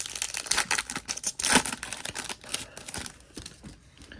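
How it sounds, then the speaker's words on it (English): 2025 Topps Series 2 baseball trading cards are shuffled by hand close up, giving a rapid run of crisp flicking, riffling and crinkling sounds with no talk. "There's our shuffle for Series 2."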